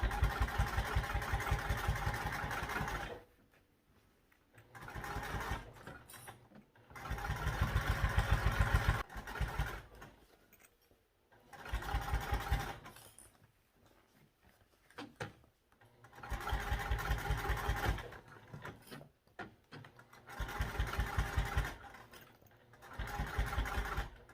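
Sewing machine stitching through thick backpack layers, running in several bursts of a few seconds each with pauses between, a loud close motor whir with rapid needle chatter.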